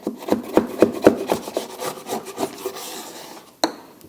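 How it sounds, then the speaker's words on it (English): Plaster mould boards being scraped clean in a ceramics workshop, a run of rhythmic rasping strokes up close, each stroke a short gritty scrape, ending with one sharp knock. "Now at this stage you should scrape your boards clean."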